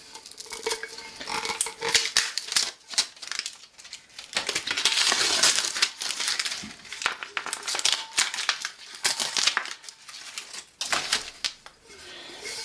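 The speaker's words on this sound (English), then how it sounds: "this paper didn't burn at all, but it's crispy now and it's hard to peel" Crispy sublimation paper and plastic wrap are peeled off a tumbler, close crackling, crinkling and tearing in irregular bursts with small knocks between them.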